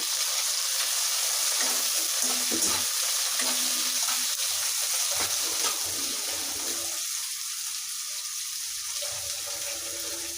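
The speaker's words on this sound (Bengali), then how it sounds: "গাজরটা যদি একটু শক্ত থাকে এটাকে আমি আগে একটু দিয়ে নিয়ে একটু ভেজে নিচ্ছি" Chopped carrots fry in a pan for a Chinese-style vegetable dish, a loud continuous hiss of oil running steadily for about ten seconds and easing slightly toward the end, with no speech.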